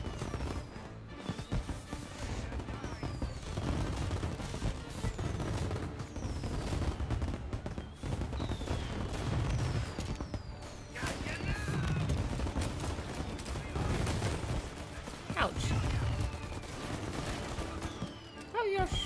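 Gunfire from the Mafia Remake video game, a dense mix of shots and bursts running nearly nonstop under a constant wash of game noise, with a few louder sharp cracks standing out toward the end.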